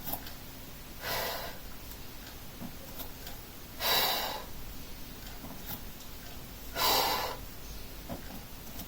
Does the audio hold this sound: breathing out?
yes